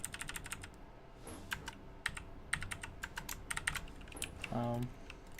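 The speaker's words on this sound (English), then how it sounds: "Press K on your keyboard." Computer keys clatter in irregular bursts of sharp, close clicks, some fast and some spaced, with occasional faint talk underneath.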